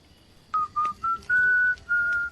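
A sequence of five short whistled notes, clear and close, with the last two held longer in a rhythmic coded pattern.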